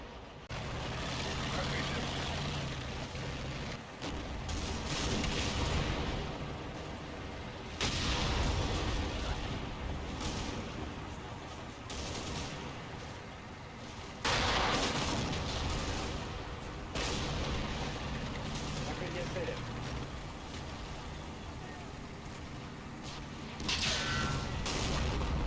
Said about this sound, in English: I lose a 4th T-34 whilst my 76mm self-propelled shells just bounce off the Panthers.